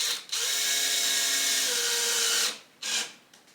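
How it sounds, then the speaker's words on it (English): A power drill drives screws into a toad enclosure in two bursts: one long steady whir, then a short second spin after a pause. "We'll go ahead and put these screws in."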